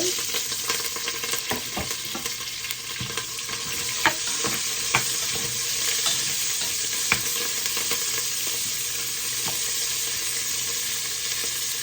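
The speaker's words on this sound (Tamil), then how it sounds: "இப்போ வெங்காயம் வதங்கட்டும்" Onions sautéing with fenugreek, mustard seeds and cumin in a clay pot, a steady sizzle running throughout with a few sharp clicks and scrapes of stirring, close and alone without talk.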